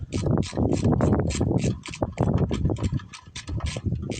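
A dry starter clutch on an estate-sale tiller makes a harsh, rhythmic squalling squeal, loud and close, repeating in quick ratcheting pulses for several seconds.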